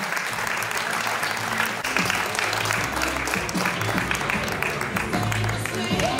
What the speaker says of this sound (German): Großen Applaus bitte nochmal für die Damen.